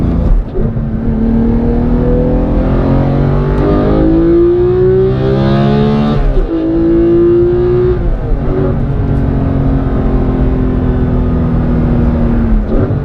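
A manual Porsche 991.2 GT3 engine pulls hard under acceleration from inside the car, a loud continuous roar whose pitch climbs, drops briefly at a gear change, then climbs again and settles.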